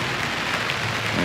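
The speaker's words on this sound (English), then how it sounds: "it's been a rainy morning here at camp" Rain falling on a mountain campsite near St Elmo, Colorado, a dense, even patter of drops that hisses steadily throughout at moderate volume, with no talking.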